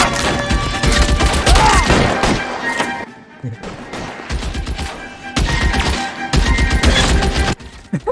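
Rapid volleys of gunfire during an L.A. Noire shootout on Switch come in loud bursts separated by a short quiet gap, with voices shouting around the shots.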